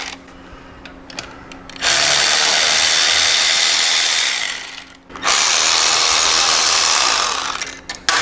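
A power tool whirs loudly in two long sustained bursts, close and steady, as bolts are backed out of a motorcycle heel/toe shifter, with a short pause between runs.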